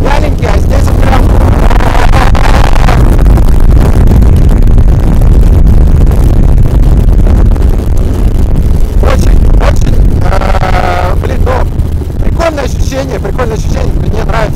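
Loud, steady low engine rumble of a 2001 Harley-Davidson Road Glide with a 95 cubic inch Screaming Eagle engine under way, with heavy wind buffeting and someone talking over it throughout.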